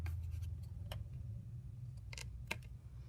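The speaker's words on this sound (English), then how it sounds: "And then I'll use my big scissors." Large scissors trimming the edges of a junk-mail paper craft piece, a few quiet crisp snips and paper rustles spread irregularly over a low background hum, close but faint.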